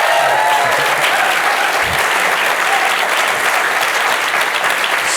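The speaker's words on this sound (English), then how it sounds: "Big round of applause." A crowd at the Stephen Lawrence Prize 2022 celebration applauds loudly, a dense continuous roar of many hands clapping that stays level for several seconds.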